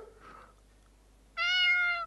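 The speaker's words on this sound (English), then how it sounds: "Oh, it's a cat!" A cat in the Ao Oni horror game gives one loud, clear meow near the end, after a stretch of faint ambient sound and brief quiet effects.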